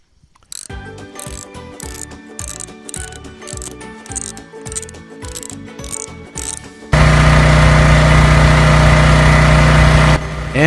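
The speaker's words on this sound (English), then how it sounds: "And the generator works and doesn't trip the circuit breaker." An off-grid homestead generator: rapid mechanical clattering and ticking at first, then a loud, steady engine drone with a strong low hum that runs to the end, close by.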